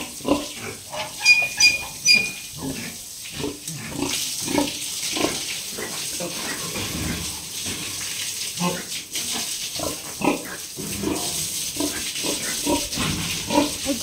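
Pigs and twelve-day-old piglets in a pen, giving repeated short grunts and squeals over a steady wet, splashy background, with a person talking intermittently nearby.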